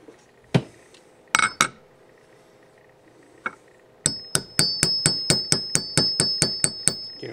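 A rivet is peened on leather for a leather pipe stand, starting with a few separate metallic taps and then a steady run of about a dozen sharp, ringing hammer strikes, close up with no talking.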